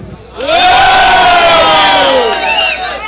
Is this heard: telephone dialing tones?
no